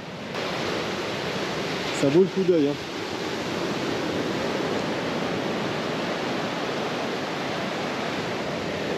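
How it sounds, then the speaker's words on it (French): Continuous broadband roar of ocean surf on a Guadeloupe beach fills the scene, with a person briefly speaking over it early on. "les vagues elles font un peu trop de bruit"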